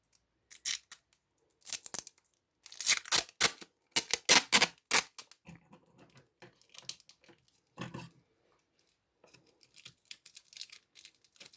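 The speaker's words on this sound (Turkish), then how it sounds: "taraftan da kesiyorum" Scissors snipping masking tape wrapped around a picture frame, a run of close, sharp crisp cuts and crackles in irregular bursts, busier at first and then sparser, with quiet gaps between.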